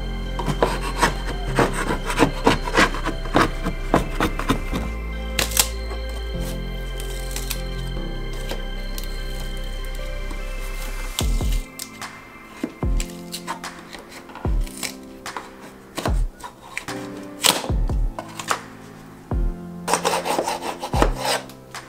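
Painted wall strips are pried and peeled off mobile home walls under many coats of paint, with repeated close scraping, rasping and cracking noises and sharp knocks in irregular bursts.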